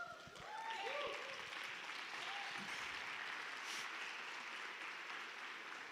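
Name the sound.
church congregation applause, ovation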